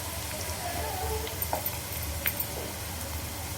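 Grated garlic and a pinch of asafoetida hit hot oil in a pan, giving a steady soft sizzle with a few small crackles and clinks close by.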